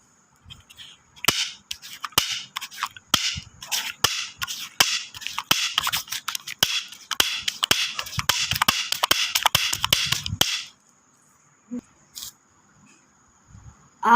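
Rapid strings of sharp firecracker pops crackle for about ten seconds, irregular and close, then stop, leaving near silence with a couple of faint knocks.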